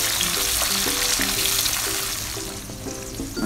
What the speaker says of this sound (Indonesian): Okey, minyak yang sama kita masukkan cili padi, bawang merah, bawang putih dan tomato.